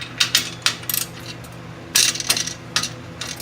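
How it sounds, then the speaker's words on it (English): Exhaust support bolts on a 2017 Harley Davidson Dyna are loosened and removed with a 1/2 inch tool, producing a series of close, sharp metallic clicks and ratcheting taps in irregular bursts. "Let's go ahead and take these out, these supporting bolts here."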